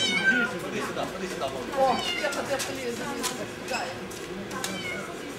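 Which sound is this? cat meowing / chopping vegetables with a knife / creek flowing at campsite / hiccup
cat meowing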